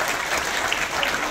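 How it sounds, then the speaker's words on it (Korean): Audience applause at a ribbon-cutting ceremony for a leisure movement vision proclamation event, a dense, steady wash of many hands clapping throughout the short burst with no voices over it. "박수 한 번만 주시면 고맙겠습니다."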